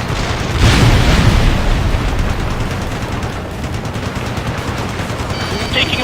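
Gunfire rattles from a rooftop in the Ace Combat Assault Horizon video game, with rapid bursts and booms loud over a dense wash of battle noise and engine rumble, continuous for several seconds.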